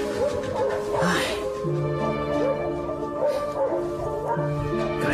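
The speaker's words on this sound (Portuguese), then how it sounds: "Cachorro idiota." A dog barks and whimpers, mixing yips and drawn-out whines in an uneven, fairly close run with a few sliding cries, while a voice murmurs faintly beneath.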